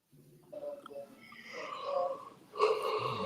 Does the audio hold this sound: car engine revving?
no